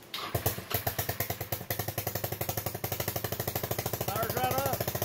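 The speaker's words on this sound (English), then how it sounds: "one more time, we'll hit the starter button" A DIY trike engine fires up from its starter button and settles into a fast, even, close-up chugging idle with sharp repeating pulses, while a person talks briefly near the end.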